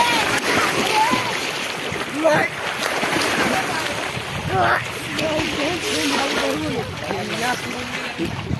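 People playing and splashing in the Budhi Gandak river at Sighiya Ghat, Samastipur, with continuous water sloshing and splashes mixed with wind and distant voices shouting.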